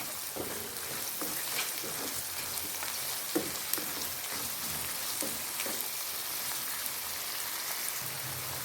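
Prawns and potato stirred and fried in a pan with rock salt, a steady close sizzle and crackle throughout, with occasional scrapes and knocks of the stirring utensil.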